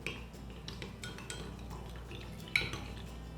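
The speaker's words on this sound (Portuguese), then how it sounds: "vou misturar bem para esse amido dissolver" A spoon stirs cornstarch into milk, making soft repeated clinks and scrapes against the bowl over a quiet liquid swish, close and steady, with one brighter knock near the end.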